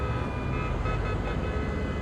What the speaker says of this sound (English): Cars are honking.